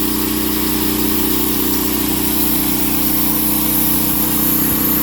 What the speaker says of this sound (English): The motor's about 1/4 throttle.